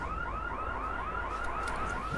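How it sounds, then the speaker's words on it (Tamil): A warbling alarm siren inside the video game Project IGI 2, during the weather station mission, cycles steadily in rising-falling sweeps throughout, loud and continuous with no talking. "சைரன்"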